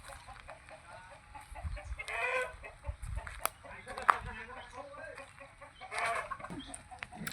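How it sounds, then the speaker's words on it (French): Meat chickens cluck and squawk in short bursts, some nearby and some farther off, with scattered clicks and rustling in the background. "ça c'est des poulets pour la viande"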